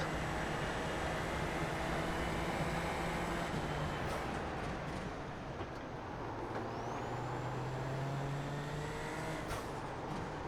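In a racing video game, a race car's engine drones loudly and steadily at high revs, with the pitch sliding as it shifts, while tyres hiss and other cars pass nearby.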